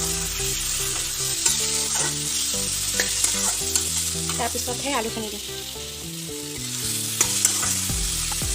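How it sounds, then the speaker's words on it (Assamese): Tomatoes fry with spices in a hot pan, a steady loud sizzle with stirring scrapes throughout, while someone talks over it. "বিলাহীখিনি ভালকৈ ভাজি ল'ম"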